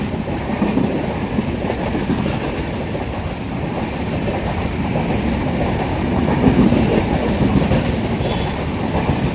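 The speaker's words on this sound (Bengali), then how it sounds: "আসছে Puri Kamakhya express রয়াপুরমের F7 locomotive নিয়ে আজিমগঞ্জ সিটি পার করে এখন" The Puri–Kamakhya Express, a weekly train hauled by a Royapuram-based F7 locomotive, passes on the Katwa–Azimganj line near Azimganj City, with a loud, continuous rumble and rolling clatter of coaches that holds steady throughout.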